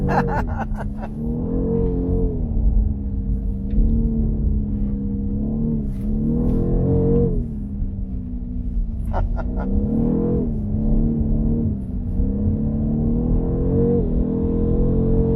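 A 530 hp BMW M850i xDrive accelerates hard, its engine note climbing and falling in repeated sweeps as gears change, heard steadily from inside the cabin.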